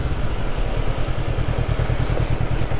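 A Honda NX500 motorcycle engine running near a golf field in Assam, a steady low pulsing idle with a faint mechanical clatter, close and continuous.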